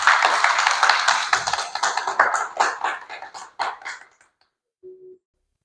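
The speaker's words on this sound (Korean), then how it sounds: "그럼 작가님을 다시 한번 큰 박수로 모시겠습니다" Audience clapping welcoming an artist at an art lecture, a moderate burst of claps that thins and fades out after about four seconds, followed by a brief tone.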